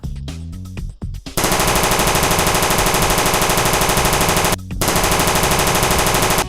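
Rapid automatic gunfire from the video game PUBG, loud and continuous bursts after a few opening shots, with one brief pause before the firing resumes; no talk.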